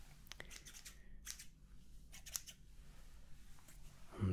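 Slightly serrated haircutting scissors snip hair in close, quiet ASMR detail, a few crisp metallic cuts and soft shearing scrapes with faint handling noise and a louder bump at the end.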